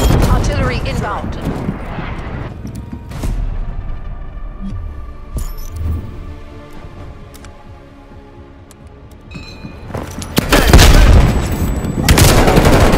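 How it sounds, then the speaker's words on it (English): Artillery rounds come in during a Call of Duty Black Ops Cold War match, with heavy booming blasts and rumbling gunfire at the start and a loud, sustained barrage of explosions near the end. "Artillery targeting detected. Artillery inbound."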